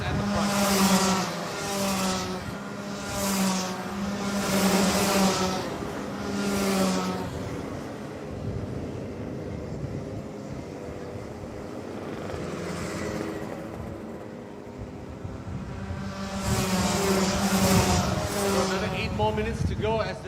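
Racing karts in a Rotax Max Challenge race rasp past on the track in waves, high buzzing engines rising and fading in several clustered passes while a commentator talks throughout.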